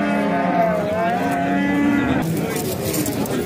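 A cow at a Tajik livestock market gives a long, loud, close moo with a falling tone, followed by crowd and market noise.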